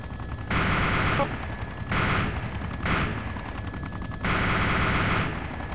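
Machine gun fire from a helicopter during close air support in ArmA 2: four loud sustained bursts of rapid automatic fire over a steady rotor drone, each lasting about a second.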